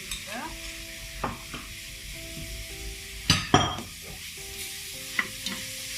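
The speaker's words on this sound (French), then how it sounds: "Et continuez de remuer jusqu'à ce que le mélange soit sec." Coconut candy mixture with butter stirred in a pan, scraping and stirring strokes with a faint sizzle, punctuated by a few sharper clinks of the utensil against the pan around the middle.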